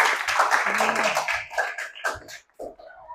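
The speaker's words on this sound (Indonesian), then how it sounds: "Tepuk tangan dulu." A group of students in a classroom claps hands together, a loud burst of overlapping claps that breaks into a few scattered, separate claps before fading out.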